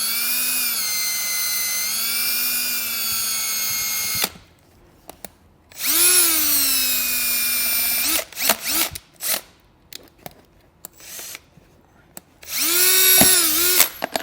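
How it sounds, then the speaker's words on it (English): A power drill bores a small pilot hole in a 2023 Jeep panel, whirring loudly in three long bursts with short stuttering pulses of the trigger in between, up close. "So I'm going to start with a small pilot hole."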